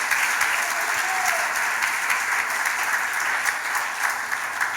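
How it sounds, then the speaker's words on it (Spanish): A church congregation at a morning service claps loudly and continuously, a thick, sustained roar of many hands that fills the room without letup. "Aplauda fuerte al Señor en esta mañana"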